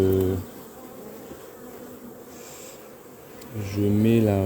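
Black honey bees at a hive in Picardy give off a steady, close buzz through the middle stretch, while a voice speaks at the start and again near the end.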